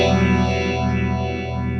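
Clean channel of an electric guitar amp with effects switched in, sustained chorus-like shimmering tones ringing steadily with echo and reverb, played alone at a constant level.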